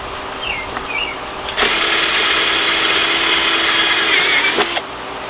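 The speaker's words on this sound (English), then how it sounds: "You got to tighten your drill bit down, Joel." A power drill bores a hole while building a cheap DIY fish pond filter, a steady loud whirring cut lasting about three seconds between brief quieter motor sounds.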